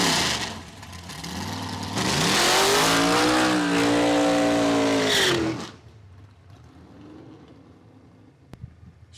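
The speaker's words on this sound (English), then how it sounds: "Strong burnout there, heating up those tires, making sure that they're going to hook to the track" A green and black altered drag car does a tire-heating burnout at Saskatchewan International Raceway: a loud engine roar builds and holds with rising revs for several seconds, then cuts off abruptly to a faint low rumble.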